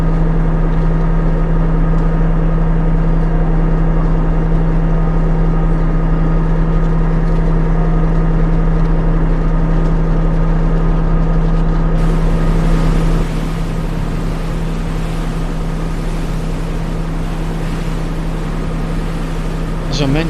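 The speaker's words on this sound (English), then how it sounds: "Here's a quick view of the engine room." Engine room of the Yorkshire Belle pleasure boat in 1992: a loud, steady marine diesel drone with a strong low hum and dense mechanical clatter, running continuously throughout, with a slight shift in tone near the end.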